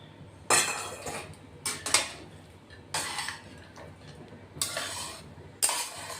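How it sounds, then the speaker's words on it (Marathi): A spoon scrapes and clatters against a pan as fried peanuts are stirred into poha, several distinct bursts of stirring separated by quiet pauses, close and fairly soft with no talk. "तळलेले शेंगदाणे ते टाकून घेतोय आपण आता. तेही मस्त मिक्स करून घेऊ."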